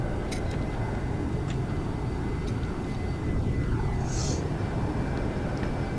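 An SR-71 Blackbird jet engine in the X-Plane flight simulator drones steadily and loudly for the whole stretch, with a few faint clicks on top and no talking.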